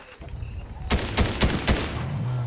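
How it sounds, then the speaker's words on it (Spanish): Gunfire in the video game Fortnite: a quick burst of four sharp, loud shots at a steady rhythm, preceded by a low game rumble and with no talking. "Disparo."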